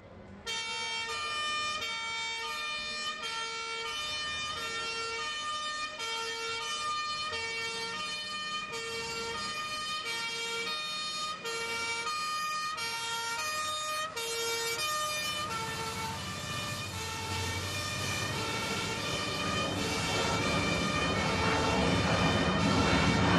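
Fire engine arriving with its siren wailing continuously in a steady alternating pattern, loud and sustained throughout, with engine and road rumble growing toward the end.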